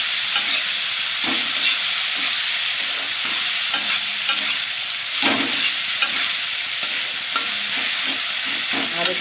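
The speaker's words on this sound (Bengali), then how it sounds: "বাদামের সঙ্গে এটা মশলাটা ভেজে নেব।" Spices and peanuts fry in a pan with tomato, salt and turmeric, a constant close sizzle broken by repeated scraping stirs at an uneven rhythm, with no talking.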